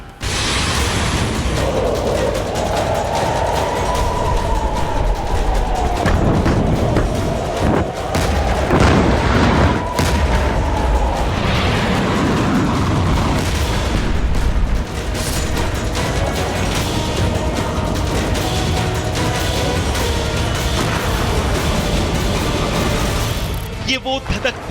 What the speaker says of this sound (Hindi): इस रिपोर्ट में एक बड़ा धमाका होगा